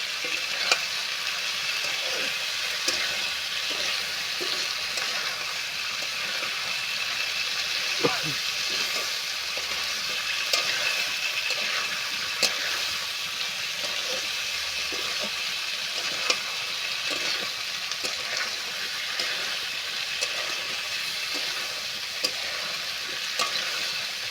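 Chickpea ghugni masala stir-frying in a pan, a steady loud sizzle with frequent scraping stirs of a spatula throughout, no talking.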